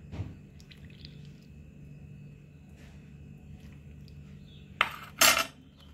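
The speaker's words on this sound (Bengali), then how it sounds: "এবারে কাস্টার্ড পাউডারের মধ্যে আমি গরম দুধটা মিশিয়ে দেবো" Hot milk stirred into custard powder with a metal spoon, ending in two short, loud scraping clinks against the bowl over a low background hum.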